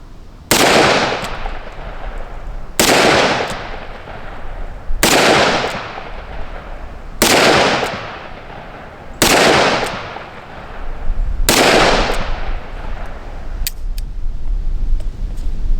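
A revolver firing Hornady jacketed hollow point rounds at an outdoor range, six loud, sharp shots spaced about two seconds apart, each with a short echoing tail.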